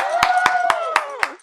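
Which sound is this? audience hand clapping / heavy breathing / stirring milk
audience hand clapping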